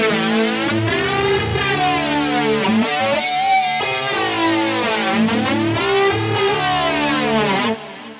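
Electric guitar played through a Boss GT-1 multi-effects unit with distortion and a flanger effect: loud sustained notes and chords with sweeping, whooshing jet-like modulation, ending abruptly.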